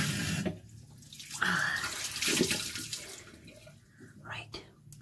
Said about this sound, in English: Wash it all off. Just give it another wee wash.